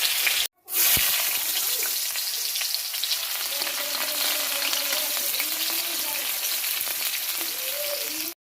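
Fish pieces fry in a pan for a spinach-and-fish dish, with a loud, continuous close-up sizzle. A brief clatter cuts in near the start, and the crackle then holds steady to the end.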